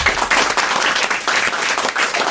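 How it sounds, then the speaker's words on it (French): Studio audience applause on a French radio talk show, a dense, loud burst of clapping filling the whole moment without a break. "On vous applaudit et on vous remercie tous les deux."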